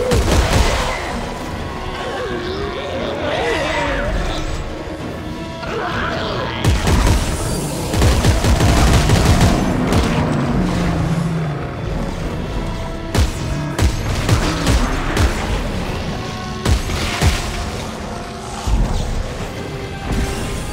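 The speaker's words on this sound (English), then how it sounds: "Pretty slow explosion." Booming explosions and crackling bursts of gunfire in Dead Space 3 erupt repeatedly, loud and close, with heavy crashes rising and falling through a chaotic battle scene.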